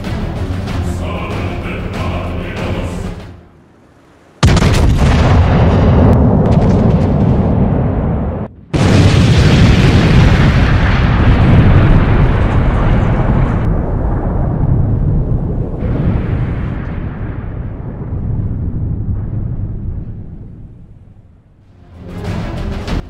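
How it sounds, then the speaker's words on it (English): A broadside salvo from the German battleship Bismarck's 15-inch guns fired at HMS Hood in World of Warships: loud, sustained booming blasts that roll on for many seconds, broken by brief gaps, with no talking. "the Bismarck once again prepares to fire a fifth salvo on the Hood"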